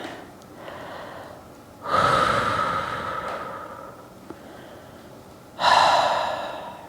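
Deep breaths drawn during a yoga stretch, two loud breathy inhale-exhale cycles with a quieter breath between them, close and clear with no talking.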